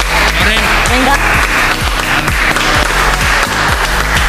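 Applause for fashion show models at a Marbella event, a steady clatter of clapping hands under a pulsing music beat with rhythmic sliding bass tones, loud and close throughout.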